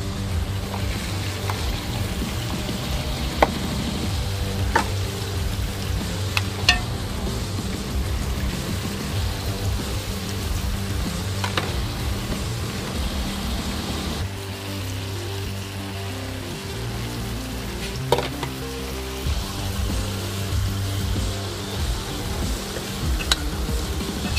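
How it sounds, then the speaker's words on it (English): Ground beef frying in olive oil in a pan, a steady broadband sizzle with crackling pops running continuously and fairly loud throughout, no talking. "So I'm going to put a little bit of this in there so I can fry my beef up."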